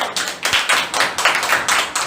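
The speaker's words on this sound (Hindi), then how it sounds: "जोरदार ताली बजाए।" A church congregation at a Sunday service claps loudly and steadily, a dense run of sharp hand claps in a quick rhythm that stays strong for about two seconds.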